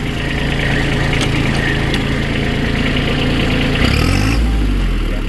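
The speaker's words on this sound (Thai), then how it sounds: "ดูระบบของเครื่องยนต์" A 2023 Kubota B2140s tractor engine idles with a steady, loud mechanical chugging, close by. Near the end its pitch shifts as the engine note changes.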